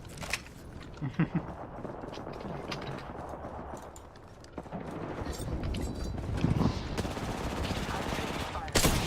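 Video game gunfire crackles in repeated bursts and rapid volleys, loud and close, under game noise and some talk throughout.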